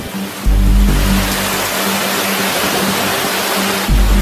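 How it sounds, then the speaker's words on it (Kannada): Jog Falls on the Sharavati river in the rainy season roars as a steady, loud, dense rush of falling water, with deep rumbling underneath and no voices. "ಜೋಗ ಜಲಪಾತವನ್ನು ಸ್ಥಳೀಯ ಜನರು ಜೋಗದ ಗುಂಡಿ, ಗೇರುಸೊಪ್ಪೆ ಜಲಪಾತ ಎಂದು ಕರೆಯುತ್ತಾರೆ"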